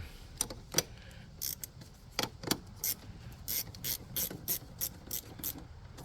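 A wrench loosens the battery terminal nuts on a Toyota 4Runner, with a quick series of sharp ratcheting clicks in short bursts, close and crisp over a quiet background.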